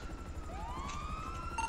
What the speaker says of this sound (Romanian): nu mai porni sirenele